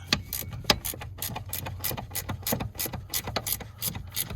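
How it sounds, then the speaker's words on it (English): A ratchet wrench turns a horizontal bolt on a Scion tC during a steering damper replacement, giving a fast string of close, crisp clicks in short strokes. "Using a ratchet wrench for the horizontal bolt."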